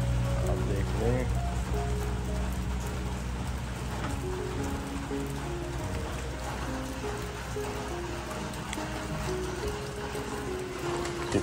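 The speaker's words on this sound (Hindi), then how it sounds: "मजे बरसात भी है" Heavy rain falls steadily on a village in Perak, Malaysia, a dense pattering on surfaces with dripping and trickling water nearby, continuous and fairly close.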